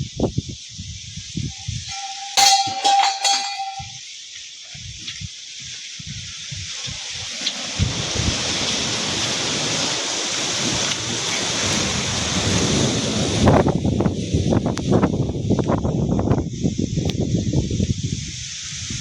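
A windstorm with heavy rain roars past, starting with scattered rustles and a short tonal beep, then building into loud, gusty, broadband wind and rain noise buffeting the microphone.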